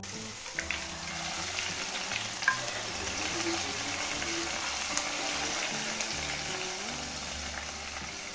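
Spices tempered for saag crackle and sizzle in hot oil, a continuous hissing fry with scattered pops and a low rumbling hum underneath.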